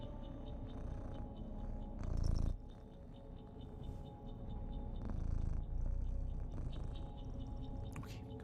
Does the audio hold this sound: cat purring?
yes